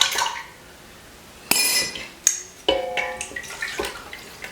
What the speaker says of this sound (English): I've got about a tablespoon of my Greek yogurt here that I'm just gonna stir into my hot milk